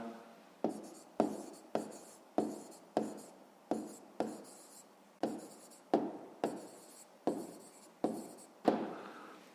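A pencil scratches across paper while a 5th-grade math exercise is written out, in a steady run of about a dozen short, close strokes, each starting sharply and fading, with no talking.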